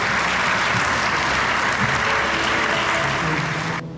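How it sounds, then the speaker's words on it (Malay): Audience at a school launch event at SMK Air Tawar, Kota Tinggi, Johor, breaks into loud, dense applause that runs steadily for about four seconds before cutting off sharply at the end. "Beri tepuk tangan kepada diri di atasnya."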